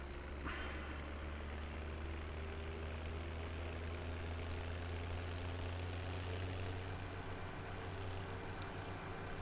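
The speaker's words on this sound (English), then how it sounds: "I love this little tractor." A small tractor engine in Farming Simulator 17 runs steadily at idle-like revs, a continuous low hum with a faint rumble, holding at an even level throughout with no talk over it.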